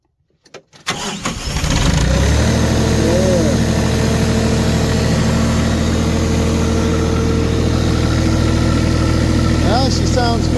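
A diesel engine cranks and catches after its fuel lines are bled following a gelled-fuel no-start, then settles into a loud, steady, close-up idle with a rough low rumble, with brief speech over it near the end.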